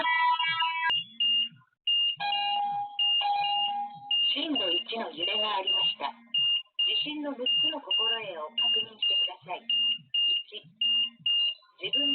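An earthquake early warning alarm sounds on several electronic devices in Mexico, giving repeated rhythmic beeps and tones that overlap. A spoken automated announcement can be heard under the beeps.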